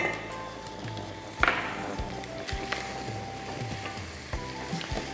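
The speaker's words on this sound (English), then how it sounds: "This is freshly chopped garlic. Add a small amount in." Freshly chopped garlic sizzles in a pan for chilli con carne, a steady close frying hiss broken by several sharp taps and scrapes of stirring.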